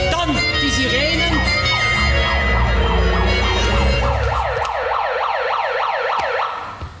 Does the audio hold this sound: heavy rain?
no